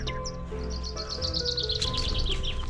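Morning birdsong on a Corsican hiking trail: repeated high chirps and trills from birds at middle distance, steady and fairly faint over a soft outdoor background hum, with no voices.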